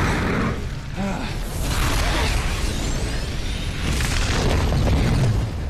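A heavy gun blasts in Resident Evil 6, a deep booming explosion with rumbling aftermath and a whooshing burst, loud and sustained, followed by a second swelling impact.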